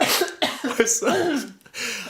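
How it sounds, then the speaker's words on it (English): A close, rough throat clearing in a few short, raspy bursts, broken by brief pauses. "I'm gonna need to clear my throat"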